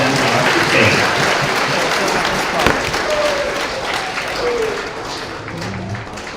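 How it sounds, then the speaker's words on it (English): A crowd of students and audience at a space station event claps in sustained, dense applause with some voices mixed in, slowly fading toward the end. "let's have a quick round of applause"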